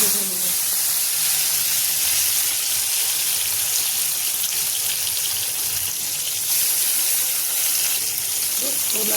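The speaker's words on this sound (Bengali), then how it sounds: "দেখুন করলা আমি লাল করে পুরো ভেজে নিয়েছি।" Salted bitter gourd (karela) slices fry in hot oil in a kadai, giving a loud, steady sizzling hiss that continues without break, with occasional faint crackles.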